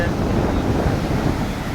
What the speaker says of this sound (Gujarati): દરિયાના મોજા ખૂબ જ ઉછળી રહ્યા છે